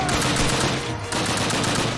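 Rapid automatic gunfire plays as a continuous loud burst in the World War II shooter Call of Duty: United Offensive. The shots blur into a dense rattle for about two seconds.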